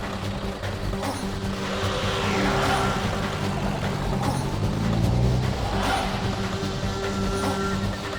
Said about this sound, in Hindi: रिवर्स गाड़ी को